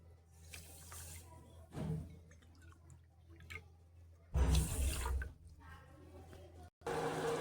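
Water is poured from a cup into sugar for making sugar syrup, with a brief splashing pour and then a louder, longer gush mid-clip, while someone speaks between the pours.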